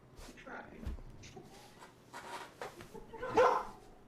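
A human voice imitates dogs barking outside during a tabletop Dungeons and Dragons session, giving a few soft woofs mixed in with quiet murmuring.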